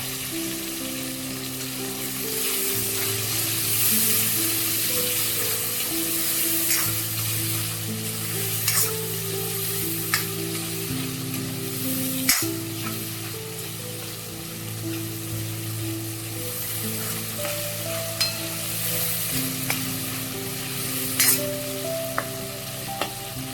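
Potato curry sizzling and frying in a pan, a steady close crackle and hiss with scattered sharp pops and stirring scrapes, continuous and fairly quiet throughout.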